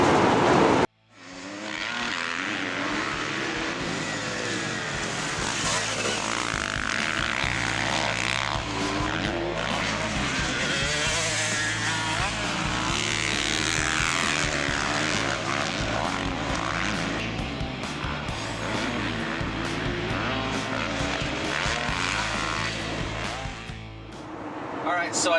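A motocross bike is ridden around the track for laps without using the clutch. The loud, close engine drones continuously, its revs rising and falling through the ride before easing off at the end.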